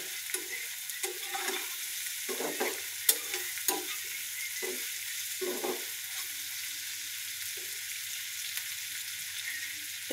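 Dried ribbonfish and chili frying together in a pan, a soft continuous sizzle with repeated short scraping stirs at an uneven pace, close by and with no talking.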